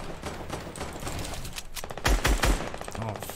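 Rapid automatic gunfire from turrets in a battle-royale style video game, a steady rattling stream of shots at moderate distance growing heavier with a few deeper impacts toward the end.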